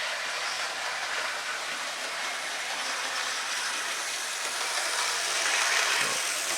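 New Zealand model locomotive runs along a model railway track with US rolling stock, a steady smooth whirring rumble of motor and wheels, fairly quiet and continuous with no talking.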